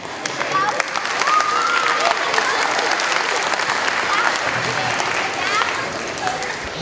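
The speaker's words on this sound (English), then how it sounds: "Let's give Keith a round of applause." Audience applause for Keith at a live science show, a dense, sustained round of clapping from a crowd that holds steady throughout, with a voice heard under it.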